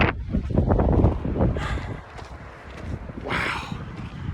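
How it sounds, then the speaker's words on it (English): Wind gusts on a high mountain trail near Cucamonga Peak buffet the microphone in low rumbling bursts, with a few brief hissing swells in between. "it's getting pretty windy up here too."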